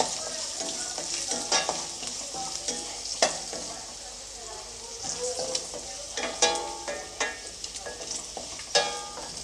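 Turmeric powder and cumin fry in a pan for khara pongal, a continuous close sizzle broken by repeated metal spoon scrapes and stirs, moderately loud, with no voices.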